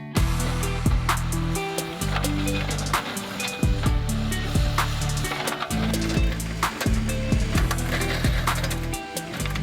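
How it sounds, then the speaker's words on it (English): An excavator ripper grinds and scrapes through rock at a mountain building site, with repeated crunching bursts and a steady low engine rumble throughout. "He's using a ripper to rip through some of this rock."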